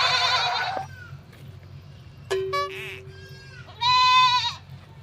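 Goat bleats ring out loud and close in short bursts, one at the start and another near the end, with other brief sharp sounds between them over a low background hum.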